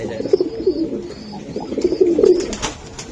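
A male racing pigeon coos in repeated low, throaty bursts, close and clear, over about three seconds with faint background noise.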